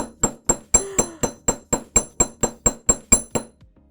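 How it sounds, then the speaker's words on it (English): A hammer strikes wire on a hard surface to flatten it for woven earrings, about fourteen sharp, ringing metallic taps in a steady, even rhythm, close and alone, ending with a couple of softer knocks. "Now here, I'm going to hammer it flat, not super flat, but just to give it a little bit of shape"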